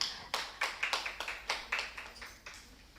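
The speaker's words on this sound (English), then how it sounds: "A big round of applause for them." A small audience in a medical college hall claps in a thin, scattered round of applause, a handful of distinct nearby claps rather than a full ovation.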